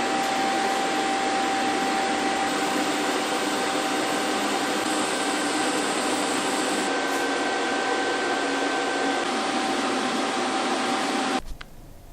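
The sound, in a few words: TIG welding with filler rod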